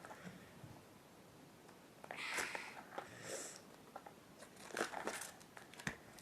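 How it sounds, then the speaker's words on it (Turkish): A packet of chewing gum is torn open by hand, with soft crinkling and tearing of the wrapper in irregular bursts, quiet and close. "Bunlar sakız değil mi ya? Hemen açalım."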